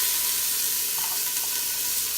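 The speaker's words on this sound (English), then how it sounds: "My pan's a little hot. Start adding my onions in there." Onions and garlic sizzle loudly in a hot pan, a dense, steady frying hiss up close with slight stirring texture and no voices.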